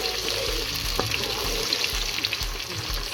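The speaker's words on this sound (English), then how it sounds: "So our oil is heated enough, we add in our onions. And we're going to give it a gentle stir" Chopped onions fry in hot oil for Ghana jollof rice, a steady bright sizzle with occasional soft scrapes and knocks of a gentle stir, close and continuous, no voices.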